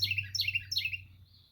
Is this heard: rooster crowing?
no